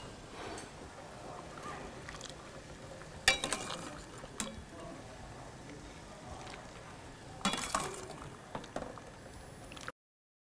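Soup is ladled from a pot into a bowl in a kitchen, with soft liquid pouring and a few sharp clinks of ladle against dishes, close and moderately quiet, two clusters of clatter about four seconds apart.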